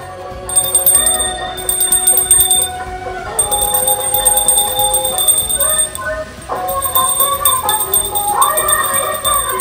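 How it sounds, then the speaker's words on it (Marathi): A hand bell rings continuously and close while a Gauri idol is carried home, with bright, sustained metallic clanging in a steady rhythm and brief pauses between bursts. "फक्त घंटा इथे हलवली जाते, घंटेच्या नादेत ही गौरी घरी नेली जाते"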